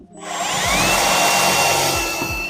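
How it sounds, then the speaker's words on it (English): A power drill bores holes into a carbon fiber front lip for push-in clips during a Tesla Model X Plaid widebody kit install, a close, loud whine that ramps up, holds steady, then winds down. "using clips, just regular push-in clips, and drilling holes, just like that, just like OEM"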